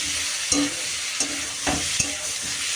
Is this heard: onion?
yes